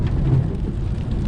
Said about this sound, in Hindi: और बारिश जो है ना वो अभी भी हो रही है